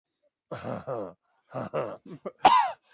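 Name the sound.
voice imitating a cloud giant coughing up blood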